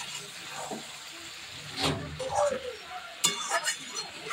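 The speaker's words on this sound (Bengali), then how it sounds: "ভালোভাবে কষাতে হবে, অনেকক্ষণ ধরে কষাতে হবে" Chicken and potatoes with green chillies are stir-fried in a pan over a faint sizzle, with intermittent stirring scrapes and utensil knocks against the pan, and a voice speaks briefly at close range.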